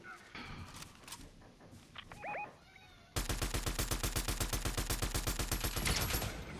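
In a shooter video game, a few scattered shots and game chimes give way to a long, steady stream of loud, rapid automatic gunfire with an even, pulsing rhythm.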